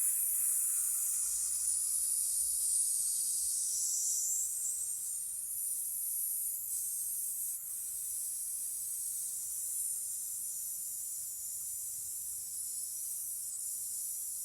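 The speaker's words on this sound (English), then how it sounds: "now you're going to do a sizzle. So this is just a straight sizzle." A singer's breathing exercise: a long, steady sizzle hiss pushed out on a single breath, close and sustained, slowly fading slightly toward the end with no talking.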